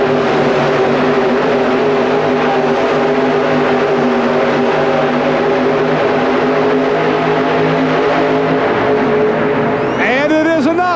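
A four-wheel-drive pulling truck makes a run at the Pontiac Silverdome in 1991, a loud, sustained high-revving engine roar filling the arena while a commentator talks over it, with a rising whine near the end.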